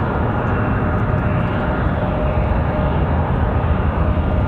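A Republic Airways airliner takes off from Raleigh-Durham International Airport, its jet engines a loud, continuous roar that holds steady throughout with no talking.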